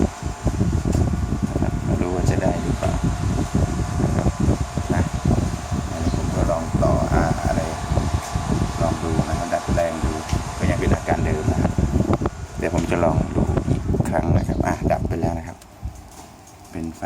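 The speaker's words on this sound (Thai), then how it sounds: "แล้วก็พัดลมก็จะเร่งรอบขึ้นนะครับ พัดลมจะเร่งรอบขึ้นก็เนาะ" The cooling fan of a faulty Acer X1110 projector, failing before a shutdown, revs up into a loud, steady whirring rush that runs almost continuously before dropping off near the end.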